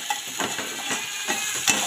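Onions fry in a hot pan for Maharashtrian kanda chutney, hissing with a steady sizzle while a spoon stirs them with soft scraping strokes.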